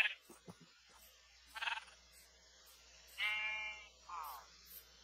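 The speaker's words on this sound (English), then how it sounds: "Hello, goats." Goats in the Minecraft game let out a few short wavering bleats spaced across several seconds, quiet and fairly clear over a faint low hum.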